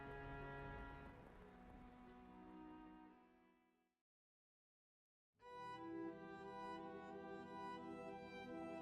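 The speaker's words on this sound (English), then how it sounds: "listening to the pitter-patter of the rain" Steady rain patter in the visual novel game The House in Fata Morgana, heard under layered background music that briefly drops to silence before resuming.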